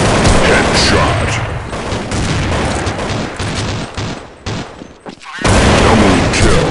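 Rapid bursts of AK47 automatic fire in the online shooter Counter-Strike Online, loud and dense, with brief breaks between sprays and a sharp cutoff near the end before firing resumes.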